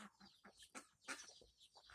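Ducks kept on a farm call out in a run of short, nasal bursts while waiting to be fed in the morning, with several quacks and chatters following each other close by at moderate volume.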